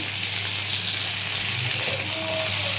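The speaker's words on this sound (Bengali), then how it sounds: "তার সাথে আমার মৌরিগুলোও ভাজা হয়ে গেল" A steady hot-oil sizzle of fennel seeds frying alongside pointed gourd, close and continuous, with faint clinks partway through.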